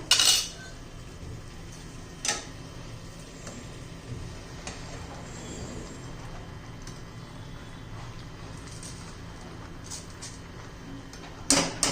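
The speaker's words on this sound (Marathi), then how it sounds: "आता आपण आता तांदूळ घालून घेऊया" Rice goes into a pot for spinach pulao and is stirred, with a few sharp metallic clinks of a spoon against the pot at the start and end over a quiet, steady low background.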